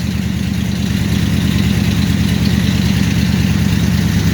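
A vehicle engine with a transfer case idles steadily after a cold start, close and even, a low continuous throbbing rumble with no talk.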